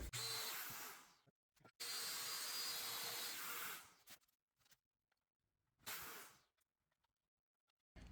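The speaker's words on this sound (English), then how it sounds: "I'm gonna use a 4 millimeter domino to cut a slot and try to fit it about here" A domino joiner cuts a 4 mm slot in wood, giving three loud, close bursts of whirring motor noise with a hissy roar, separated by near silence.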